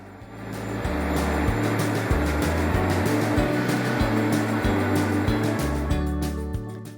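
Machinery rumbles in the engine room of the cruise ship Ventus Australis, a loud, continuous deep drone that fades in and out, with no voices.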